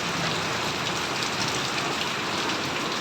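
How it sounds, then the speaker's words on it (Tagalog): Heavy rain pours steadily, a dense, loud, unbroken hiss of drops on surfaces with no let-up. "Medyo hinahina na yung ulan."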